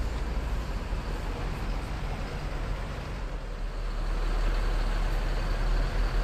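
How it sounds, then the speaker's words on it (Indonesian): A P82 Queen Sultan Class coach from MPM, the operator's top class, pulls into a parking area at a bus departure point, its engine giving a steady low rumble throughout that swells slightly toward the end, with no talk. "P82 Queen Sultan Class dari MPM, proses masuk parkiran."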